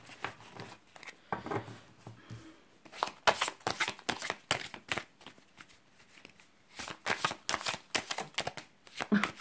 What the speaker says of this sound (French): Elle veut venir, je vais la prendre. Oula, oula, oula, ça fait trop de cartes là.